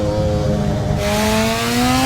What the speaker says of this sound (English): what an amazing car. I mean, just sounds so good